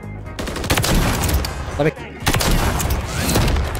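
Rapid bursts of gunfire in the video game MW3, loud crackling shots and booms layered under excited voices of players talking over them.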